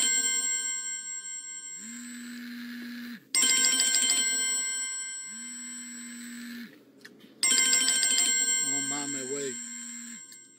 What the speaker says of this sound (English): being drowned out by the deafening sound of Android notifications from his phone